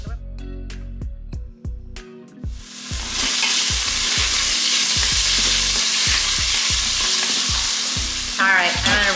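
Beef frying in oil for a beer-braised Mexican stew, starting with a few sharp rhythmic thuds, then a loud continuous sizzle that keeps going under regular knocking sounds, with a short voice near the end.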